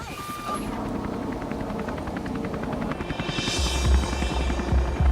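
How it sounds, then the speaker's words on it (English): A rescue helicopter returns to a backcountry trailhead after an avalanche search, its rotor beating in a steady rapid thump with a rising turbine whine, fairly close and loud. "As the heli returns to the trailhead, news comes in."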